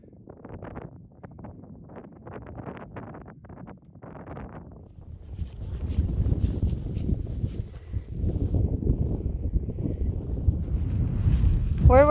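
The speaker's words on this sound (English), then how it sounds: "man, it is windy and cold" Wind gusts across a cold, exposed mountaintop, buffeting the microphone in a low rumbling roar that swells and grows louder toward the end after quieter rustling at the start.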